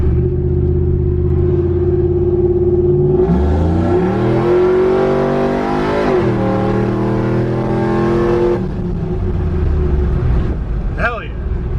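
A supercharged shop truck accelerates hard, its loud engine rising in pitch through several gear changes and holding a strong drone from inside the cab, with voices at times over it.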